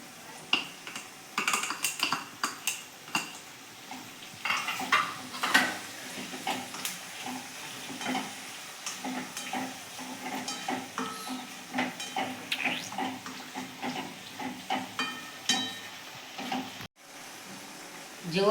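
Chopped tomatoes frying in oil with garlic and onion for a Gujarati tuver thotha curry, a steady close sizzle with sharp crackles and spatters throughout and no voices.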